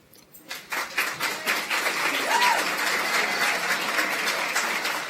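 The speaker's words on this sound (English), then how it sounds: "You all can continue clapping though. Continue clapping non-stop." An audience at the National Youth Awards 2017 ceremony bursts into applause, building quickly from near silence into continuous clapping that stays full and steady to the end, with a faint voice briefly audible.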